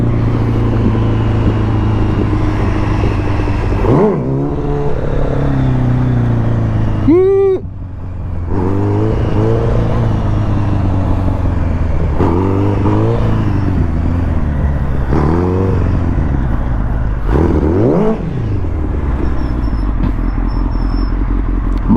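A motorcycle rides along a road, its engine droning close and loud with repeated rising revs and gear changes, plus wind rumble.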